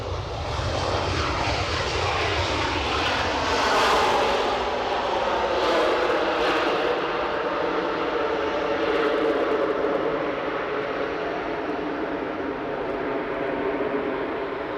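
Air Canada Boeing 737 inbound from Montreal at Edinburgh Airport, a loud jet engine roar that swells and slowly fades as the aircraft passes nearby.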